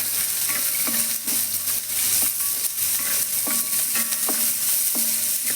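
Cashew nuts frying in hot oil in a pan give a steady, close sizzle with repeated scrapes and stirs from a spoon against the pan.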